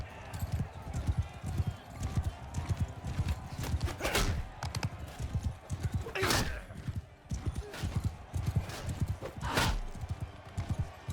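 Horse hooves in Mount & Blade II: Bannerlord, a fast, close clip-clop of galloping steps in a steady rhythm with occasional loud whooshing bursts, while a person talks over it.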